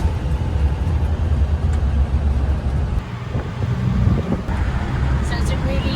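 A constant loud rush of wind buffets the microphone during a ride in an open-backed vehicle through the streets of Pattaya, Thailand, with a low road and engine rumble underneath and a voice speaking over it.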